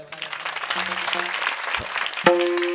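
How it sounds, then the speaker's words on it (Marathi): An audience at a kirtan claps together in a dense, steady patter with tonal harmonium-like notes and voices underneath, swelling louder near the end. "एकदा सगळ्यांनी प्रेमाने जोरात टाळ्या वाजवा."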